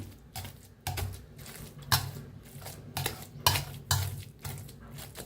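Cooked pumpkin is mashed in a pot with a masher, producing a series of irregular clanks and soft squelching thuds, about eight distinct strikes spaced roughly half a second apart, close and fairly loud.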